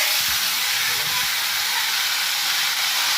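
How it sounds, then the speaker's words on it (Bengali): Cumin seeds and dried red chillies tempering in hot oil for aloo dum, giving a steady, loud, even hiss of sizzling oil with no talk over it. "আলুর দমের জন্য প্রথমে একটু তেলের মধ্যে জিরে ফোড়ন দিতে হবে, তারপর একটু শুকনো লঙ্কা ফোড়ন দিয়ে দিলাম"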